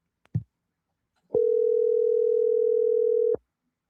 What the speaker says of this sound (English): when I hear the ringing, it just goes right to Frank Rizzo